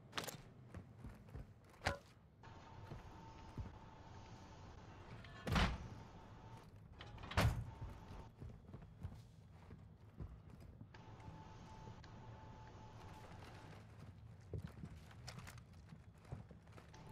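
Footsteps outside a closed door in a military shooter game, a faint, regular series of soft thuds behind the door, broken by a few sharper knocks and mechanical clunks.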